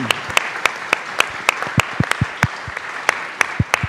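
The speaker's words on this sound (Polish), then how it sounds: "wielkie brawa" An audience claps in a cathedral, a series of sharp, evenly spaced, fairly loud claps that ring out in a steady rhythm.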